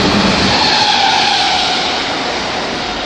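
A Merseyrail train passes, heard from indoors as a loud, steady rushing rumble that fades slightly toward the end, with no voices.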